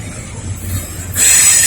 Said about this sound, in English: This is that trash train that comes down by the Amtrak station.